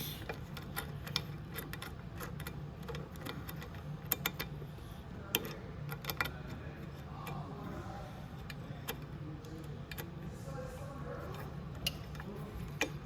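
A bolt on the rear brake of a Venom x22 125cc motorcycle is unscrewed, producing a rapid run of close, light mechanical ticks and ratcheting clicks with a few sharper clacks. The clicks are steady throughout and there is no speech.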